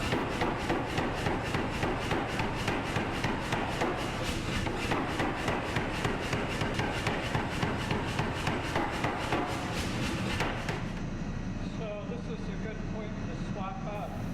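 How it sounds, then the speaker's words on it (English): A forged steel bar is hammered into the basic form of a Japanese wakizashi short sword, with rapid, evenly spaced blows in a steady pounding rhythm for about ten seconds before stopping, under a loud, noisy workshop background. "This bar is hammered into the basic form of a sword."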